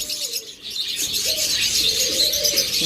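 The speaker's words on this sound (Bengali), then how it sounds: "এখানে যে ক্রিমিনো কিছু পাখি আছে দেখুন" Caged birds in a pet bird shop keeping lovebirds, budgerigars, cockatiels and finches chirp and coo close by, a busy overlapping chatter filling the whole stretch.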